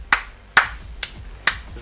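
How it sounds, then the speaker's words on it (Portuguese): Four separate hand claps spaced about half a second apart, each a sharp isolated crack with nothing between them, after a win in a Battlefield 4 match on PS4. "Palmas."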